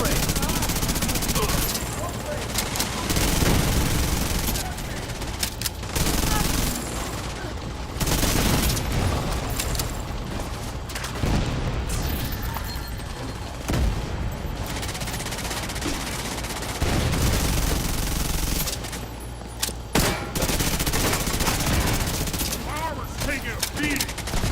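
Near-constant gunfire in the shooter The Division 2, with dense bursts of automatic weapons, heavy booms and shots layered into a loud, chaotic battle, and voices talking over the fighting.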